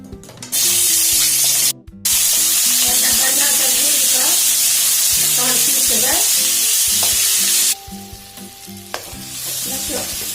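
Large onions and garlic frying in about a spoonful of oil, a loud steady sizzle that cuts out briefly, then settles into a quieter hiss with faint stirring toward the end.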